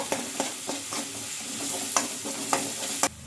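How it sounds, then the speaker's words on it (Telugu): Ground garlic and cumin paste frying in a pan, a steady close sizzle broken by scraping stirs and a few sharp utensil taps against the pan. "ఇంకా ఆ పేస్ట్ని కూడా వేసుకొని బాగా ఫ్రై చేసుకోవాలి 1 నిమిషం పాటు"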